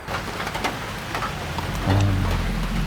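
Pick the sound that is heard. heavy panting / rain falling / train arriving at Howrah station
rain falling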